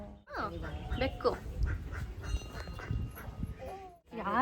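A duck quacks a few short, nasal times, close by, mixed in with people talking nearby.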